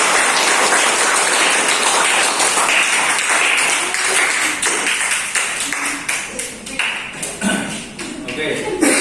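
An audience in a classroom claps for a student group's presentation, a dense burst of applause that thins into scattered claps toward the end, with voices underneath.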